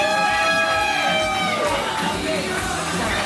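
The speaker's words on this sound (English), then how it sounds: "Electric atmosphere in this intimate crowd." An intimate village crowd at a wrestling show in Ilmington cheers, whoops and yells loudly, a dense continuous roar with sustained shouted voices rising above it.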